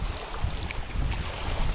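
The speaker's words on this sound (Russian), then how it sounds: "Ветер штормовой" Stormy autumn wind buffeting the microphone at Nizhny Tagil pond, a steady loud rumbling roar with gusting low-end blasts and broadband hiss throughout, no voices.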